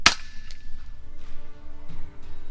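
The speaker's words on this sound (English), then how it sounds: "It is always nice to hear that pop so early in the morning, and Yem delivers with that hit." A single sharp pop from an FX Impact M3 air rifle fired at a starling during early-morning pest control, a short crack at the start followed by quiet outdoor ambience with faint birdsong.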